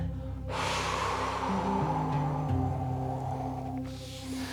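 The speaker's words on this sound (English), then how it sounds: "Again, inhale, and when we exhale, we coming down." A long, breathy exhale during a back stretch rushes out close to the microphone for about three seconds, then fades, over a low steady hum.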